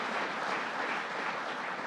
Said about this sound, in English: Let's give Batman and Robin a round of applause.